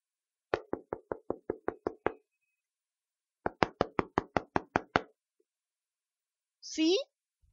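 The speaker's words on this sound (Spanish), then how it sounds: "Los golpes en la puerta se escucharon nuevamente." A door is knocked on in two quick volleys of sharp, evenly spaced raps, about eight and then about nine blows, close and distinct in near silence, ending with a brief vocal sound.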